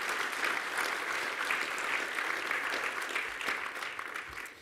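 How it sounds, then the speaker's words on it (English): Steady audience applause fills a chamber of commerce awards event, a dense, even wash of clapping that holds loud for several seconds before easing slightly at the end. "So let's give them a huge round of applause."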